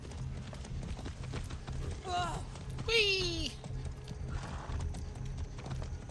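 A horse in the Far Cry 6 video game clip-clops along with steady, rapid hoofbeats throughout and gives two loud whinnies in the middle; a voice lets out a brief exclamation.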